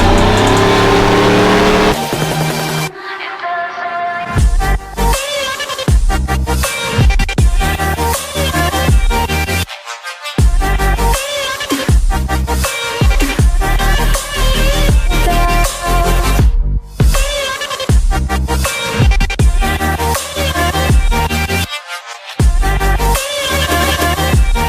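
A truck engine runs loud and close while an overheating engine is being fixed, a rough continuous roar with brief dropouts and surges.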